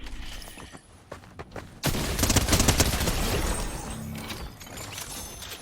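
Bursts of gunfire in the video game Fortnite, loud sustained shooting erupting after a quieter opening with scattered shots, then tapering slightly toward the end.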